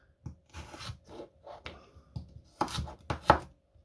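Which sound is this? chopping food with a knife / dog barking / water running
chopping food with a knife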